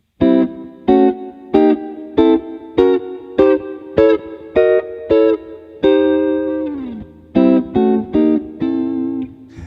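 Electric guitar plays a series of strummed diminished chords in a steady rhythm, about a dozen stabs with one longer held chord midway, with effects and reverb.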